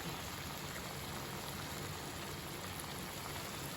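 Tamarind sautéing in a pan for tomato pickle, a soft, even crackling sizzle that stays faint and unbroken throughout.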